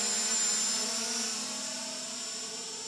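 A Hubsan H216A quadcopter hovers with its motors running, a steady high-pitched whirring whine that fades slightly as it holds position; no one speaks.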